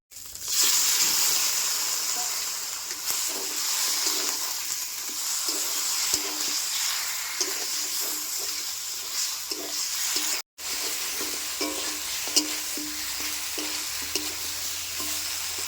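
Raw meat is stirred and fried in a thick spice masala with green chilies, a village-style home cooking pot sizzling steadily with scraping spoon strokes throughout, close and fairly loud, no talking.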